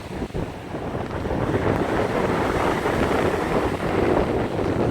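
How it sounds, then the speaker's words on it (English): Strong wind buffets the microphone on an exposed stretch of coast beside a rough sea, a loud, steady roar with churning surf mixed into the gusts and no voices. "it's a bit windy, and the sea's a little rough"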